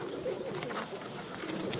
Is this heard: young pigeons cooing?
yes